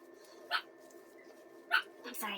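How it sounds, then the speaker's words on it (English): Dogs outside bark in a few short, sharp bursts, a yap and then a second bark, under a steady background hum with some talk nearby. "kids are outside playing and the dogs won't stop it"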